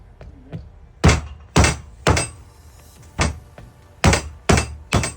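Heavy metallic hammer blows knock out a Mazda RX-7 FD axle, about eight hard, ringing impacts spaced roughly half a second apart, loud and close with no talking.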